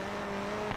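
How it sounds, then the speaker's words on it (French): A small four-cylinder Mini engine revs hard and steady while rallying near Monte Carlo, with a sustained buzzing drone that swells slightly near the end. "On entend le petit 4 cylindres qui tape très fort aussi."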